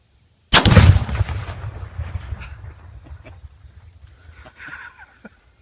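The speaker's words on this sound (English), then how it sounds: "shooting at a big pumpkin out there" A single loud gunshot hits a big pumpkin outdoors and the pumpkin bursts apart, followed by a decaying rumble and scattered debris; faint voices come in near the end.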